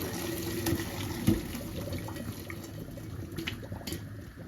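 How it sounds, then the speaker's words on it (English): Water from boiled sweet potatoes being drained, a steady close splashing pour with a brief louder gush near the middle. "We're draining the sweet potato."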